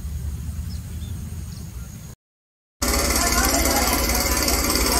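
Quick Kasuari hand cultivator tilling soil to form melon beds, a loud rough engine clatter that breaks off briefly, then returns even harsher and denser.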